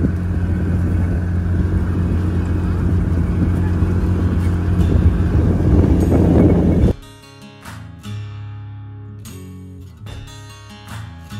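Tractor fitted with a brush hog mowing through brush, a loud, steady engine drone with rough cutting noise for about seven seconds, then dropping abruptly to a quieter, intermittent running sound.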